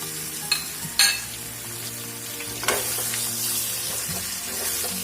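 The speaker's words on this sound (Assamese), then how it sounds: "সেই বাঁহগাজখিনি মই একেখিনি তেলতে ফ্ৰাই কৰি দিম।" Round-cut bamboo shoot slices fry steadily in hot oil, giving a constant close sizzle with a few sharp spatters and stirring clatters, and no voices over the cooking.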